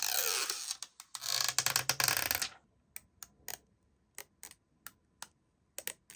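A protective film is peeled off an Akko Pulse 01 computer mouse, a crackling tear lasting a couple of seconds, followed by a series of sharp, sparse clicks and taps close by.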